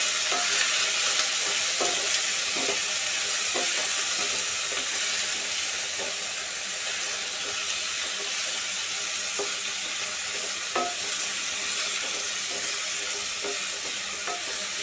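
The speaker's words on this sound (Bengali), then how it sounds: "দিয়ে পটলটাকে ভাজা ভাজা করে" Pointed gourd frying in a pan with turmeric and salt gives a steady, close sizzle throughout, broken by occasional sharp clicks of stirring, with no voices.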